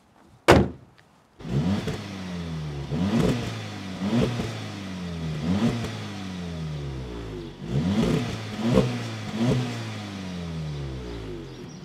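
A car door thuds, then a VW Golf R MK7 Stage 1 engine with DSG revs repeatedly, each rising vroom climbing and falling back in a steady rhythm, close and fairly loud.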